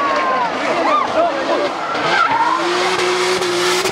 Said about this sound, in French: Donc il y a une sortie très très grave de Steve Guérin, qui était son concurrent.